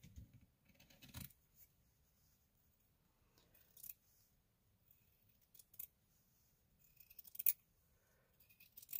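Scissors snip through a paper sewing pattern in short, quiet bursts separated by pauses, with small sharp clicks of the blades closing up close in an otherwise silent room.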